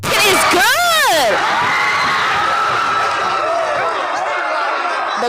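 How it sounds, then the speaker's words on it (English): Basketball crowd at a Bulldogs game roaring and cheering after a made basket, loud and sustained, with shrill whoops and screams rising over a dense wall of noise before settling into a steady roar. "The crowd goes wild."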